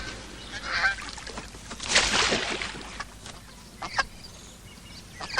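Goose honking in a series of raucous calls, loudest in a strong burst near the middle, with scattered shorter honks after it and no talk.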